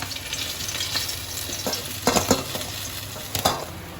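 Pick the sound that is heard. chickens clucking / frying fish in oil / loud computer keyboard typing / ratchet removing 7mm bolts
frying fish in oil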